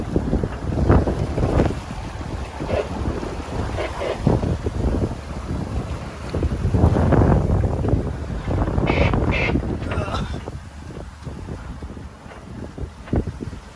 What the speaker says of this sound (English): Gusting up to 30 knots of wind at the minute.